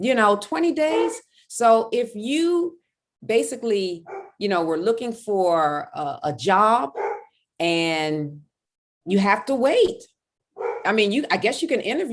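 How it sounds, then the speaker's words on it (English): A big bull mastiff barks in the background, its deep woofs scattered under continuous close conversational speech that dominates throughout. "That's my dog barking in the back."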